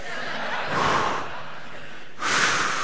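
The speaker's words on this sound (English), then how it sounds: "Everyone breathing out." An audience at a conference keynote exhales together in two broad, breathy rushes, one around the middle and a louder one near the end, from a large group in a hall.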